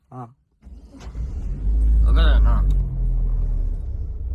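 A car engine idles and revs with a low rumble during a driving attempt, swelling louder midway and holding steady, while people talk over it.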